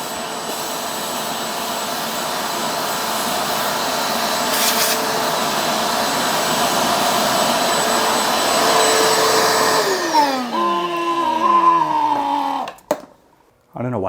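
A shop vac roars loud and steady while sucking ants out of a rabbit's foot fern, then switches off and winds down with a falling, whining tone.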